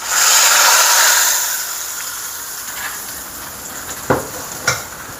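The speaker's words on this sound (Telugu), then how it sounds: "చూసారా, మంచిగా తాలింపు పెట్టేసుకుందాం" Hot oil sizzles loudly as a tadka is poured into moong dal pappu pulusu. A strong hiss fades over a couple of seconds, then two sharp spits and crackles pop near the end.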